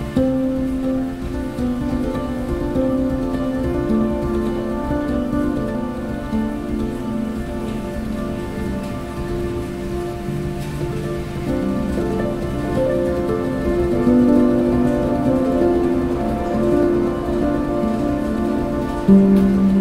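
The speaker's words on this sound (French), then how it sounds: "même la pluie est enregistrée" Rain recorded into a music track, a steady patter of drops on a surface running throughout beneath sustained tonal notes, with no voices.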